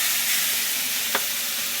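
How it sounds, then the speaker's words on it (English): A steak sizzles loudly in a hot cast iron pan, a dense steady hiss of frying heard up close with one brief clink partway through. "So I'm putting that steak in. Y'all hear that sizzle?"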